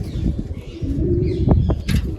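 Pigeons cooing close by, a low continuous burbling with a couple of brief sharper sounds.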